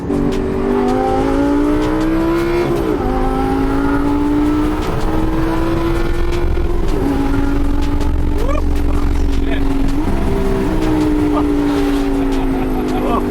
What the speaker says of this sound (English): when I want to go crazy, I'll put on Corsa mode. And you hear the exhaust note a lot crazier, a lot louder